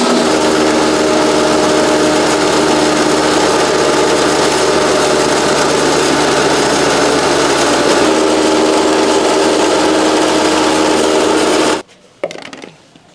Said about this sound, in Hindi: वहां से हमने ग्राइंडर ऑन किया